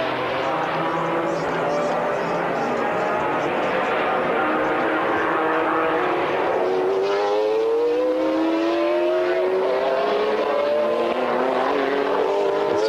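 GT race cars are racing at the Jerez circuit in a 1995 BPR Global GT Series round. Engine notes rise and strain as the cars accelerate out of a hairpin, heard steadily under excited commentary.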